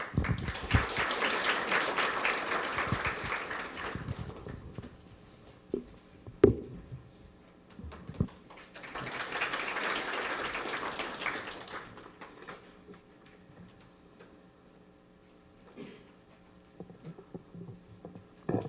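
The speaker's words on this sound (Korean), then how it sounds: "박수로 맞이해 주시기 바랍니다." An audience at a records-management staff conference applauds to welcome a speaker, two separate rounds of dense clapping, each several seconds long, with quiet room noise and scattered taps between.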